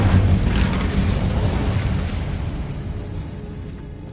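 Casting the Incendio fire spell in Hogwarts Legacy gives a loud whooshing burst of flame that flares at the start, then settles into a roaring rumble that slowly fades away.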